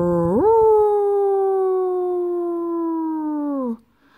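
A single long wolf-like howl that rises quickly, holds a steady tone for about three seconds, then cuts off into silence.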